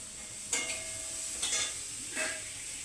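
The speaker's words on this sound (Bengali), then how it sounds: "এই যে সব মশলা দিয়ে কষা হচ্ছে" Spices sizzle steadily in a hot frying pan with fried vegetables and green peas while a utensil stirs them in three short, scraping bursts.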